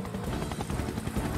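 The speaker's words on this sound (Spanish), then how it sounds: "Con la ayuda del helicóptero de Tom." A cartoon helicopter from the Fireman Sam animated series flies with a steady, rhythmic rotor chop and engine drone, heard fairly faint and continuous throughout.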